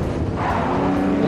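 An Aston Martin race car in the Forza racing game sweeps past quickly, a brief engine whoosh with tire noise over steady background car sound, lasting about a second.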